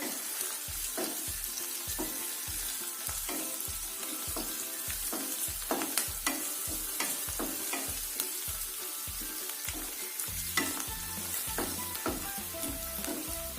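Coriander frying in hot oil in a pan for upma, a close, steady sizzle broken by rhythmic scraping stirs of a spoon roughly twice a second.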